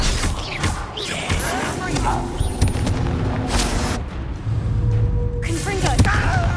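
In Hogwarts Legacy, a Confringo fire-blast spell is cast in combat, producing loud, booming bursts and crackling impacts over a busy battle din. A voice speaks between the blasts.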